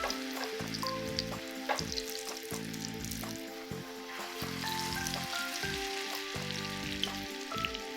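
Potato lachha pakora strands crackle and sizzle in medium-high hot oil, a dense close frying hiss with scattered pops, while faint tonal background music plays underneath.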